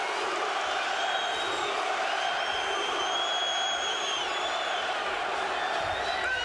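A crowd at a professional boxing match, Adonis Stevenson against Tavoris Cloud, roars in a continuous dense wash of cheering with someone talking over it.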